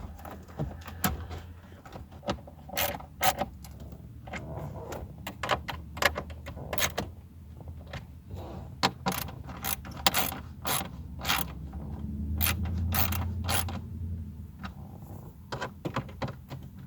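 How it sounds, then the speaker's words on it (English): Screws are driven back in while reassembling the steering column of a 1999 Chevrolet Malibu during an ignition lock cylinder replacement. Close, sharp clicks and ratcheting ticks repeat in irregular bursts over a low background hum, with no talking. "I'll just do all the screws at once."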